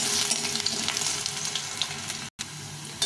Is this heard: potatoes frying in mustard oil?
yes